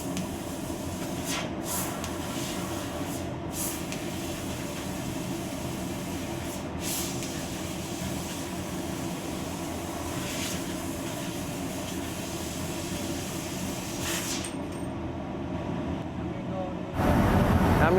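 A JMT fiber laser cuts .046 galvanized steel with a steady, loud hissing rush of assist gas and machine drone, broken by a few brief shifts, growing harsher near the end.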